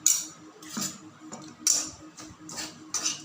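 Ghee-coated lentil powder being stirred in a hot Bengali karai for laddu, with a few distinct scraping clinks of a metal spatula against the pan spaced about a second apart, fairly quiet and close.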